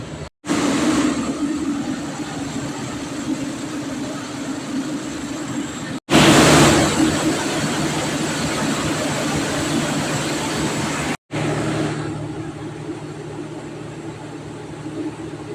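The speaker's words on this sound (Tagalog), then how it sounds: "Meron tayong i-check na generator." A generator runs steadily at a security camp, a loud continuous engine drone with a low hum, cutting off briefly twice before resuming, with no talk over it.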